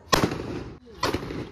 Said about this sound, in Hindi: अभी हम लोग बम फोड़ रहे थे